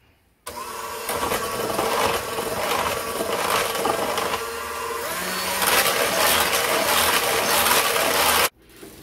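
Continuous scraping and clattering of a utensil stirring strawberry upside-down cake batter with water in a bowl, close and steady, starting and stopping abruptly.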